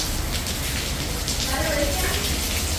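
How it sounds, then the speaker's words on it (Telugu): Steady rain pouring down outdoors with a dense, continuous hiss, loud and close throughout, with faint talk underneath. "వర్షం పడుతుంది."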